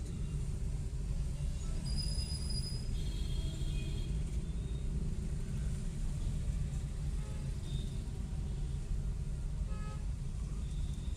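A loaded goods truck pulls away and drives toward Gachibowli with a continuous low road and engine rumble, while a few short horn toots from the surrounding traffic sound at moderate distance.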